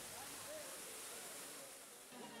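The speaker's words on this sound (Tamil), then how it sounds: "ஐந்தருவி, சிற்றருவி, செண்பகாதேவி அருவி உள்ளிட்ட அருவிகளில் தண்ணீர் ஆர்ப்பரித்து கொட்டுகிறது" Waterfalls at Courtallam thunder after heavy rain, a dense, steady roar of falling water that fills the scene evenly from start to finish.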